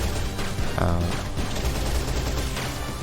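Rapid bullets fire in Shantae: Half-Genie Hero, a dense stream of gunfire bursts with a talking voice layered over the shooting.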